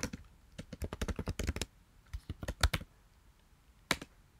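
Quick bursts of crisp clicking keystrokes on a computer keyboard as a username is typed, close and fairly quiet, with short pauses and a final single key tap, no speech.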